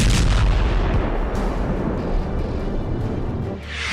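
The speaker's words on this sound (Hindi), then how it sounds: "यूक्रेन ने रूस के ब्लैक सी हेडक्वार्टर पर मिसाइल से हमला कर दिया है।" Missile strike explosions at the Black Sea fleet headquarters, heard as a heavy, continuous roar of booming blasts and rumble, loud and dense throughout with no voices.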